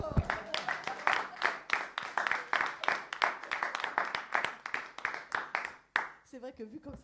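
A church congregation claps in a quick, steady rhythm, with loud voices calling and singing over the clapping; the clapping stops near the end and only voices remain.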